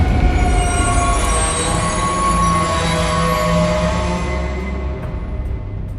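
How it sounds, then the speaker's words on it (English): Train braking to a stop, loud continuous metallic wheel squeal over a rumbling rail roar that fades slightly toward the end, no voices. "Captain America stopped the train and averted the disaster"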